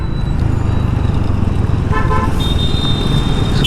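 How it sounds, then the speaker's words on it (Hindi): Car horn toots sound amid dense roadway traffic by an industrial area in Haridwar, with a loud continuous engine rumble and brief honks from nearby vehicles partway through. "हॉर्न देते देते जाओ"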